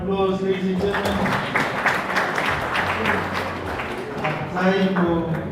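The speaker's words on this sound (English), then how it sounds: "Another round of applause, ladies and gentlemen." Mourners at a memorial service give a round of applause, steady clapping under a speaker's amplified voice, which carries on over the sound throughout.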